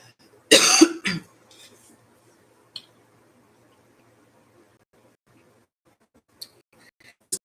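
Someone blows their nose in one short, loud, close burst near the start, followed by near silence broken only by a few faint clicks and rustles.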